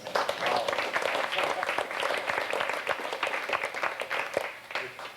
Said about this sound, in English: see a group of 750 people just cheer them on as they come through the field